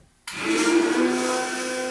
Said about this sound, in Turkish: tekrardan blenderım yardımıyla bir dakika kadar karıştıracağım